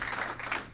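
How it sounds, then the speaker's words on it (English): Brief, moderately faint clapping from a crowd at a Florida bill-signing event, a soft patter of many hands heard alone for under a second. "So again, another round of applause."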